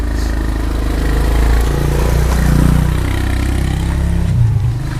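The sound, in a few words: motorcycle engine passing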